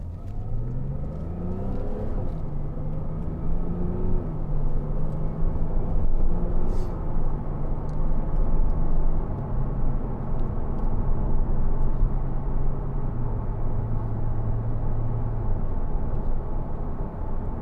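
2012 Porsche Cayman 2.9 with PDK gearbox on the road, engine droning steadily under load with smooth rises and a few seamless gear changes, tyre and wind rumble underneath, no talk.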